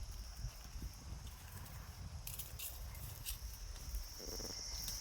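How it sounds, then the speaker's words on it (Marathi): Hooves patter unevenly on the ground as animals walk along, with insects chirring steadily in the background. "बघा आम्ही शेळ्या चालत आहे."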